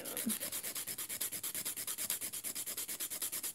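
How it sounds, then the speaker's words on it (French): A nail file is stroked quickly back and forth across the length of a thick gel nail extension, giving a steady, close rasping rhythm of about eight strokes per second with no talking. "je lime ma longueur parce que c'est beaucoup trop long."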